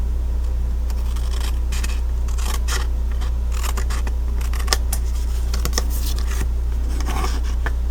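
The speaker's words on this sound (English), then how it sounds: "we will trim off the edges" Scissors trimming the edges of a handmade greeting card, a run of short crisp snips and paper rustles over a steady low hum, close and fairly quiet, with no talking.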